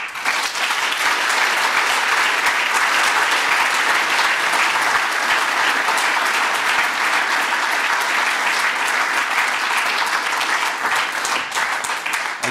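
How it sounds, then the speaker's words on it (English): Steady, loud applause from an audience honoring athletics Hall of Fame inductees, continuous dense clapping with no break. "give a group round of applause for all of our inductees"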